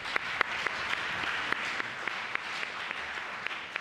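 Audience applause at a school principal's reception, a steady wash of many hands clapping with a few sharper claps standing out near the front, continuous and moderately loud throughout.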